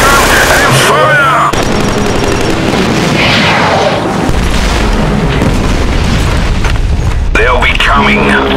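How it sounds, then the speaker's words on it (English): Anti-aircraft gun fire in the Killzone 3 multiplayer snow map Akmir Snowdrift, loud booming bursts and rapid gunfire under continuous battle noise, with voices talking over it. "Own this aircraft gun and fire!"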